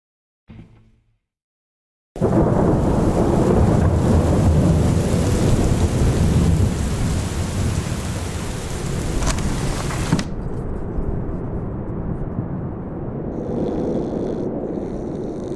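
Heavy thunderstorm with steady pouring rain, a loud sustained roar starting abruptly and rumbling on, then easing to lighter rainfall with a faint high tone in the background.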